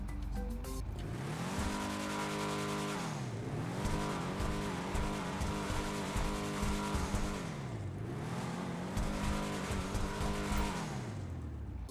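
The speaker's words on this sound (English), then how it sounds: "Definitely not a very traditional muscle car sound" Customized muscle car engine revving loudly and continuously, with repeated rising and falling pitch sweeps as the throttle is blipped up and down, plus a sharp starting burst; no talking.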